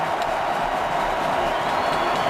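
A dense, steady roar from a football stadium crowd at an NFL wildcard game between the Seahawks and Redskins, continuous and loud with no distinct peaks.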